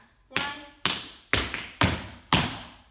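Five crisp tap dance steps strike a hard floor in a steady rhythm, each a sharp close click with a short thud.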